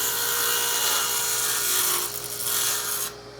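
A table saw rips a kerf for a spline through a wood joint, a loud, steady whining cut lasting about three seconds before stopping abruptly.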